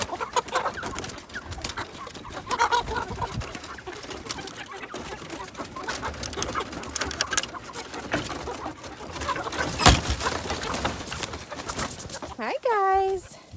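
Chickens clucking and cooing around a person talking, with a louder bird call rising near the end.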